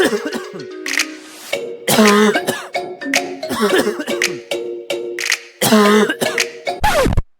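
Interns coughing repeatedly in bursts, harsh hacking coughs and throat clearing scattered throughout, loud and close, with voices chiming in between.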